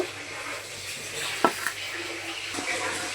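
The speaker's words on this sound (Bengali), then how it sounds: "এখানে পেঁয়াজ কাঁচামরিচ আর হচ্ছে রসুন এগুলো আমি ভালো করে ধুয়ে নেব" Onions, green chilies and garlic are swished and rinsed in water, giving soft, close splashing and sloshing with a few brief louder sloshes against a steady background hiss.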